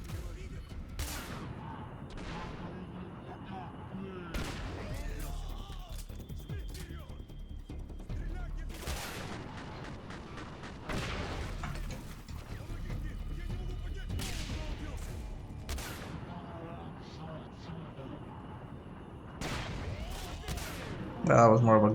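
Gunfire in the shooter game Singularity, single sharp shots spaced every few seconds, close and punchy, heard under someone talking casually throughout.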